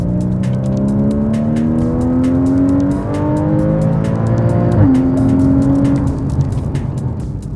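Porsche Cayman GTS with its sports exhaust open in Sports Plus mode, revving up in a long rising sweep, briefly dropping back, then climbing again, loud and close with crackling pops throughout and no talk.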